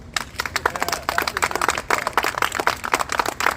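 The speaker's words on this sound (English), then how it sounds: "That deserves an incredible round of applause" Audience applause at an outdoor funding announcement at a wastewater treatment plant, dense and steady, moderately loud and nearby throughout.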